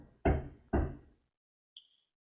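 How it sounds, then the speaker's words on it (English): Two loud, close knocks from building work outside a home, a short gap between them, followed by a faint brief tonal tick; no talking. "please excuse the knocking if you guys hear any. I have some work going on outside of my home"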